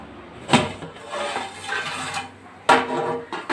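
A metal pot lid lifted off a cooked Dindigul Thalapakatti chicken biryani, with two distinct clanking knocks a couple of seconds apart and soft scraping and rustling between them, close and fairly quiet.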